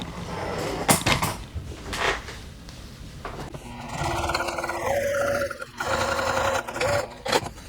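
A sewing machine top stitches fabric: a few short knocks and taps, then a sustained whirring run that wavers in pitch, pauses briefly and starts again.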